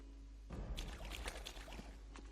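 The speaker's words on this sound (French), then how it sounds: "sous la cascade." Rushing water from a waterfall in the video game Divinity 2 plays as a steady, dense wash with splashy bursts throughout, over a low constant hum.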